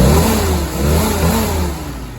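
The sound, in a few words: Willys CJ2A Jeep engine running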